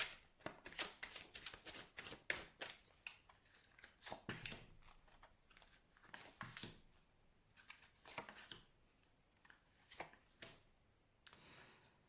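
Tarot cards are shuffled and drawn by hand, close and quiet: a long series of crisp riffling flicks and soft slaps in irregular bursts, with brief pauses and no talking.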